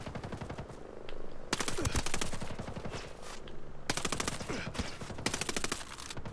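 Rapid automatic gunfire rattles in long, loud bursts during a firefight in Ghost Recon Breakpoint, with short gaps between volleys.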